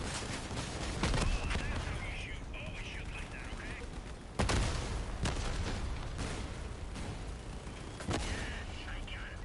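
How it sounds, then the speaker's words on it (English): A rocket launcher on a walker vehicle in Crossout fires a single heavy blast, with other loud gunshots and impacts scattered through busy combat noise and a voice talking intermittently. "Oh, it shot one rocket and then had to reload."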